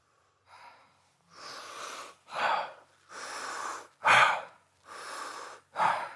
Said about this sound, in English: That's a deep breath.